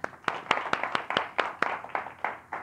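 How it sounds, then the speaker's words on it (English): A small class applauds: roughly a dozen sharp, separate claps from just a few hands, close and fairly quiet, in a loose, uneven rhythm. "Round of applause for the videos, yeah?"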